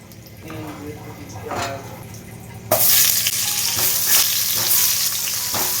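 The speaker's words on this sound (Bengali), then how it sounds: "আমি খিচুড়ির আলু আর ফুলকপিটা ভেজে নেব" Potatoes and cauliflower frying for khichuri: a quieter sizzle with some clatter at first, then a sudden loud burst of hissing oil as the vegetables hit the pan, continuing steadily and close.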